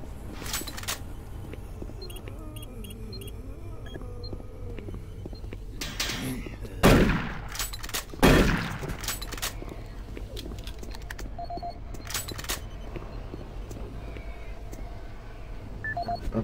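Two loud, sharp shotgun blasts about a second apart from the video game Doom 3, each ringing out briefly over a quiet, hissing ambient background.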